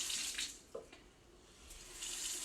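A bathroom tap running water into a sink, a steady close hiss of flowing water with a brief clink partway through, no voices.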